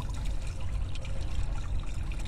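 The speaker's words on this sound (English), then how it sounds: "There's that wonderful water sound that we were hoping to get" Water from a DIY garden fountain trickling steadily over alabaster stone outdoors, a continuous close splashing babble with no voices.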